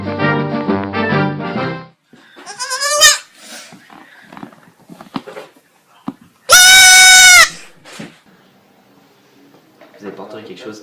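Ewes bleat in loud, wavering calls: a long bleat at the start and a very loud, close one later, separated by quieter rustling and a few voices.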